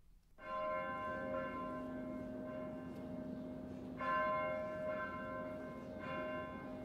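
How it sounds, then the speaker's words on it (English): The bell of the Chaldean Catholic Church of St. Joseph in Baghdad rings for Sunday Mass, a steady resonant peal with fresh strikes about every two seconds and a long ringing hum between them. "The Baghdad church bell summons the faithful to Sunday Mass at the Chaldean Catholic Church of St. Joseph."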